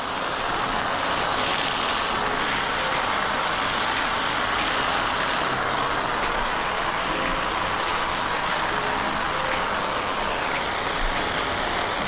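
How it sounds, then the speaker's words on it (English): A steady, loud hiss of water spraying continuously, like a hose misting plants, with faint rustling and occasional ticks behind it. "We're gonna put some water on these plants."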